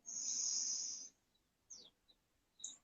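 A forceful inhalation during a pranayama breathing exercise, a loud rushing breath lasting about a second, followed by a few faint short breath sounds, with no talking.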